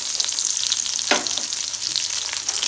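Chopped onion hits hot mustard oil with whole spices like bay leaf, cumin, cinnamon, cardamom and cloves, giving a loud, continuous close sizzle with a brief louder crackle as the onion goes in.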